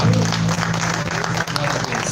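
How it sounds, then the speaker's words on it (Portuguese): Worshippers at a Brazilian evangelical service in Fortaleza applaud the Lord, a continuous wash of clapping heard over sustained music and voices in a large hall. "Vamos aplaudir o Senhor."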